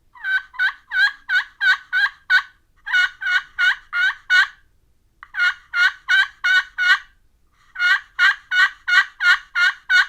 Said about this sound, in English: To make the plain yelp, you want to move the striker in small circles on the calling surface